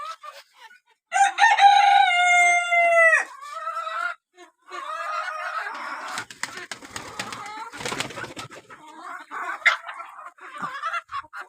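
Domestic hens clucking and a rooster crowing loudly close by during hand-feeding alongside pigeons, with a long drawn-out crow early on, then scattered clucks, wing flaps and scratching, and a person speaking softly in between.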